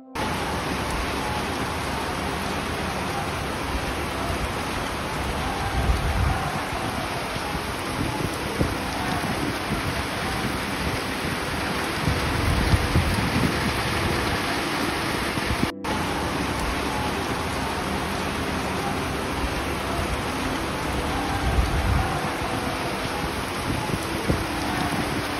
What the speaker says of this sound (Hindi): यहां पर भीषण गर्मी के बाद परिसर में बारिश होने से